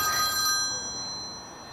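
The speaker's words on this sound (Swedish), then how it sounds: "det ringer bara" A phone rings briefly, a bright electronic ring fading into background hiss, with no one speaking.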